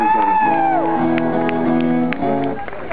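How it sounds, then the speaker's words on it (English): Crowd at a concert cheering, whooping and shouting loudly close by, with a few claps and held voices that fade out toward the end. "Round of applause for Matisse"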